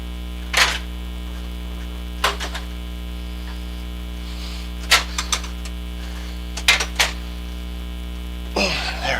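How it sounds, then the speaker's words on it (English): Steady electrical hum from a fan or hand dryer in a garage bowling alley, a constant low drone running throughout, with a few brief sharp clicks and rustles breaking in at intervals. "you might be hearing the fan on the hand towel or the hand dryer?"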